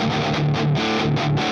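Electric guitar played through a Strymon Iridium amp simulator with the distortion set close to maximum, loud saturated chords struck in a repeating rhythm, dense and sustained up close.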